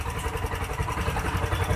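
A Honda TMX 125 motorcycle engine idles nearby with a steady, throbbing putter and light mechanical clatter.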